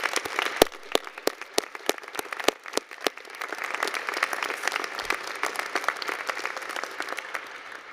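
Applause for the graduating class of 2021 at a university commencement, opening with a few sharp, evenly spaced claps that swell into a sustained round of crowd clapping.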